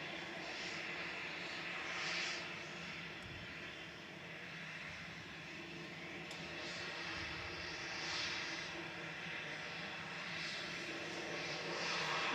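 An EasyJet airliner at Manchester Airport produces a steady, distant engine roar that swells gently and holds throughout, with no talk over it.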